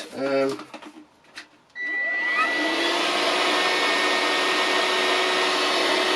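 A Worx WX030 cordless vacuum cleaner starts up after brief talk, then runs as a steady, loud, high-pitched motor whine and rushing airflow, close by and unbroken.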